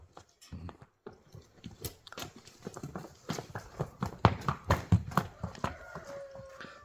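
An Orlov trotter horse walks back and forth nearby, its hooves striking in a quickening series of close, sharp clip-clops that grow louder and denser. A faint voice is heard near the end.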